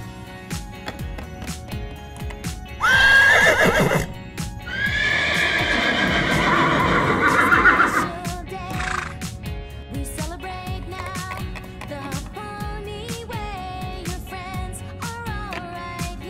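Sound effects for a carriage ride in toy-figure play: a horse gives two loud, drawn-out neighs, then a steady run of clip-clopping hooves with light ticking, no voices over it.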